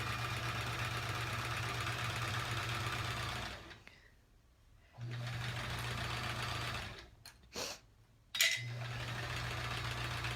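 A sewing machine stitches quilt rows for a Triangle Tango quilt in close, loud running bursts, stopping twice for pauses and brief stop-start stitches before resuming its steady mechanical hum.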